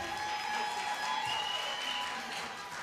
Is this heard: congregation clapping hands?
yes